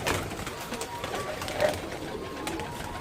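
Pigeons at feeding time coo softly nearby, with a single clearer coo rising above a rustling, shuffling outdoor background.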